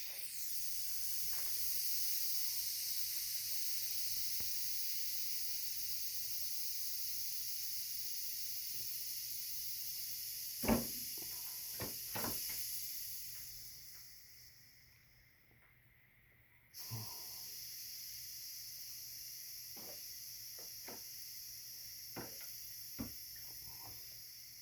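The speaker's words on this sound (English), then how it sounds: "let's give this thing a swing and see what we've got here. We're just manually operating the UP3 at this time." Pneumatic landing gear on a model Carf Corsair cycles through a manually operated UP3 valve, giving a long steady air hiss, a dip, then a renewed hiss, with scattered small clicks and knocks.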